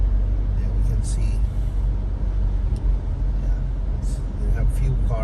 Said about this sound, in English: we have few cars on the road, and the road's wet because of rain